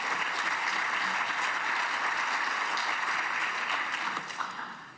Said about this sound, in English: I see you want to give him a round of applause